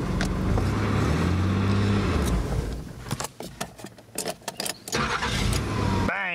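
A car starter cranks and the engine catches, then idles with a rough, sputtering rumble and sharp bursts, with a final brief whir; the car is fitted with an aftermarket permanent magnet starter motor.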